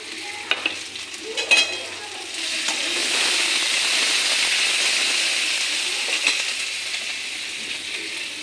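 Masala spice paste sizzles and fries in a pan for chili fish while being stirred, a steady close hiss with scraping stirs and a few clatters at the start.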